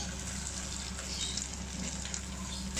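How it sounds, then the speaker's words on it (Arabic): Minced meat and finely chopped onion fry steadily in butter and a little oil, giving a continuous soft sizzle and crackle with faint scraping as the mixture is stirred in the pan. "أقلب اللحمة مع البصل"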